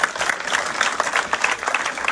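An audience at a lively local gathering breaks into applause, a dense, steady patter of many hands clapping together, fairly close and sustained throughout.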